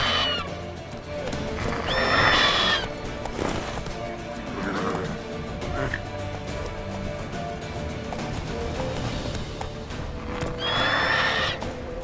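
A horse in The Witcher 3: Wild Hunt Remastered gallops with continuous clip-clop hoofbeats and neighs loudly twice, once early and once near the end, with game sounds behind.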